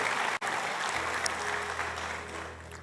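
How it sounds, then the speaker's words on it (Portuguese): A church congregation applauds its pastors, a steady wash of clapping with a brief dropout near the start and a low hum underneath. "Eu quero pedir uma salva de palmas ao pastor Gesi e à pastora Mari."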